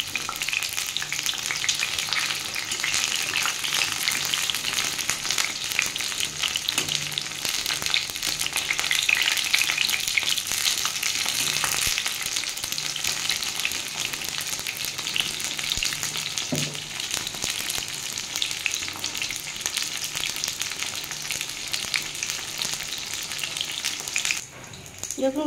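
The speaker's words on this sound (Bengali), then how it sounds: "আমার পটলটা ভাজা হয়ে গেছে, আমি এবার পটলটা তুলে নেব" Pointed gourd (parwal) pieces fry in hot oil in a pan, giving a steady close sizzle that runs throughout with a few occasional stirring clinks.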